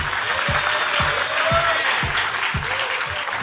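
An audience at an ICAI Iconic Day celebration applauds continuously, a dense, steady wash of clapping with a few louder, sharper claps standing out through it.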